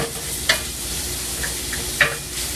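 A spoon stirs food frying in olive oil in a pan at breakfast, giving two scraping clanks against the pan over a steady background sizzle.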